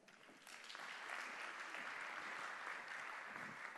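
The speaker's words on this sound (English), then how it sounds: "Would you like to applaud again?" Steady audience applause from a conference crowd at a talk on podcasting, rising after a soft start and holding as dense, continuous clapping to the end.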